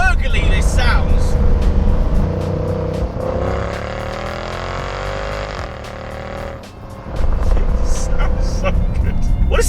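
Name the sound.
Mercedes CL63 AMG 6.2L V8 engine gurgling while driving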